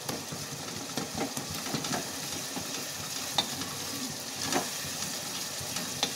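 Kashmiri red chilli and spices frying in ghee in a pan for an aloo-lauki sabzi, with a steady sizzle and intermittent scraping stirs of a spoon, close and moderately loud, no talking.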